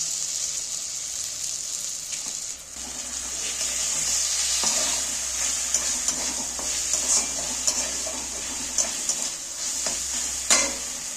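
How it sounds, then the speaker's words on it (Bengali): Onions and tomatoes with a spoonful of tomato sauce fry in a pan, giving a continuous close sizzle with a brief clatter early on and intermittent stirring scrapes, no talking. "পেঁয়াজ আর টমেটোটা একটু আর একটু ভাজা হোক"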